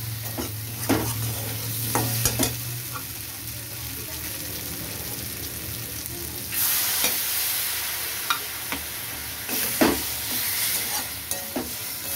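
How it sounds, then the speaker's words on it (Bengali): Potatoes and chitol fish pieces are stirred into cooked-down spice paste in a pan, with irregular scraping and gentle sizzling throughout and a few sharper utensil knocks, close and moderately quiet, with no talking. "আমি এবার আলু আর মাছটা সব পুরোটা দিয়ে দিচ্ছি, দিয়ে মশলার সাথে পুরো মিশিয়ে নিচ্ছি।"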